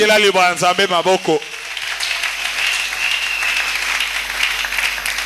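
A church congregation applauds loudly after a preacher's spoken line, clapping building into a sustained, fairly close wash of applause that carries on alone.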